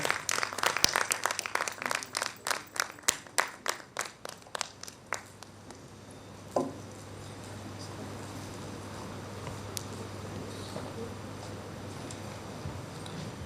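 Applause from the audience at a book release ceremony: individual claps that start busy, then slow and thin into a few spaced claps and fade out after about six seconds, leaving quiet room hum.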